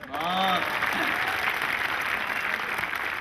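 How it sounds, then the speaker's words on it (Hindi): Audience applause at a Hindi kavi sammelan poetry gathering right after a poem ends, steady broad clapping filling the whole stretch with a voice briefly heard over it at the start. "कविता खत्म हो गई, ताली बजाएं।"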